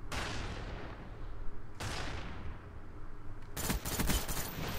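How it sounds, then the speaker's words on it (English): Gunfire in the Counter-Strike video game, a few sharp shots each followed by a long decaying echo, then a quick cluster of rapid shots near the end, moderately quiet. "They're shooting me through this thing?"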